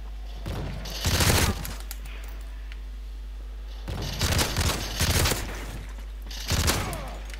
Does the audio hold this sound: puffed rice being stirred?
no